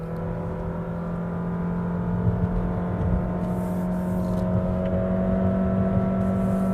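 2022 Honda City RS hatchback with i-MMD hybrid drive, its electric motor pulling it up Genting hill: a loud, steady interior whir and drone with road rumble throughout, no voices.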